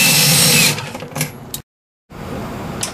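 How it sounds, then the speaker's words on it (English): Cordless drill backing out screws from the freezer section of a Norcold refrigerator, heard as a loud close whir that eases into short bursts, then cuts to silence before resuming more quietly. "You're going to remove them with your cordless drill"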